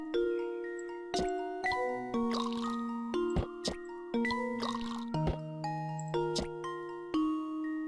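Chiming, bubbly synthesized effects from the Professor Layton and the Curious Village pitcher puzzle play as water moves between 3-quart and 5-quart pitchers, a rhythmic run of bright tonal plinks and descending liquid glugs repeating every second or so.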